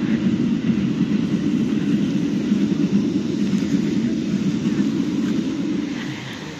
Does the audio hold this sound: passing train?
yes